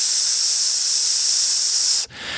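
Heavy de-essing and compression from a TC Helicon Correct XT vocal processor, a loud, steady, bright hiss that holds for about two seconds and then cuts off abruptly into a quieter tail.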